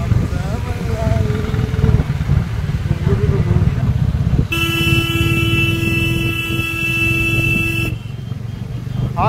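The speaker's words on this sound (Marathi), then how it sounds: "हॉर्न बजाओ सबको बचाओ." During a Shiv Jayanti bike rally, a long, loud vehicle horn blares for several seconds over constant motorcycle and traffic engine noise. Voices can be heard in the background.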